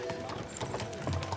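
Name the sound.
horse hooves clip-clopping in the video game Kingdom Come Deliverance II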